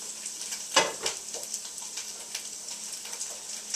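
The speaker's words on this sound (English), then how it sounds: "So now we're going to cook this, stir it, let the tomato paste cook out a little bit" Tomato paste sizzles and fries in a pan for homemade marinara while a utensil stirs it, with a sharp scrape near the start and soft crackling that continues throughout at close range.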